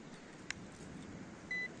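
A metal detector on a Baltic coast dig gives one short, thin electronic beep near the end, faint and set against quiet outdoor background noise.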